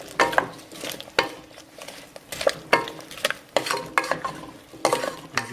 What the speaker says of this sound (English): Try to spread it out so it doesn't get lumpy. And just stir this all back in.